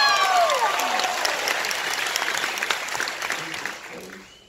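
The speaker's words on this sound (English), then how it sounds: "Give them a big round of applause." A crowd applauds at a couples game show aboard the cruise ship Liberty of the Seas, loud and dense at first, then thinning and fading toward the end.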